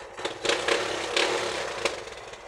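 A Kawasaki Barako motorcycle engine sputters to life after a kick-start, a few sharp irregular bursts and pops settling into a rough running note, close and fairly loud with no talk over it.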